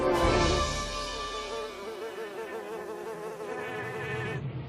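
Monster bees in an animated show buzz loudly and continuously, a droning insect hum with a wavering pitch that stays close throughout, without talking.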